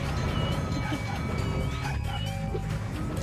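A dog in Spyro: Year of the Dragon yips and barks a few times over steady game music, clear but mixed with the ongoing soundtrack.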